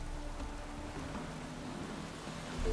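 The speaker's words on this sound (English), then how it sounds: "Looks like rain." Steady rain falls in The Witcher 3, a constant dense hiss of drops on surfaces with a low rumble underneath, loud and unbroken.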